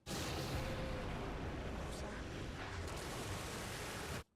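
An explosion in the 2022 Doctor Who episode Legend of the Sea Devils, amid a cannon battle. A dense, rumbling blast roars steadily for about four seconds, then cuts off abruptly, with no speech over it.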